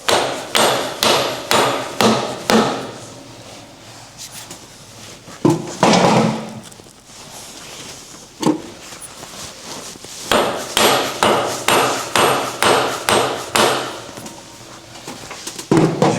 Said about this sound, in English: with our lumping hammer we can just knock that on